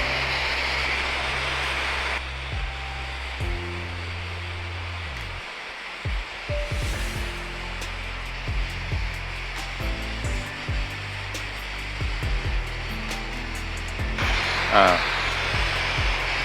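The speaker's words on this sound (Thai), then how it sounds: "มาดูครับตอนนี้เราจะทำการเชื่อมอีกแนวหนึ่งนะครับ" A gas torch brazes copper air-conditioner pipe with nitrogen flowing through it, giving a steady broad hiss at the start and again near the end, while someone talks in between.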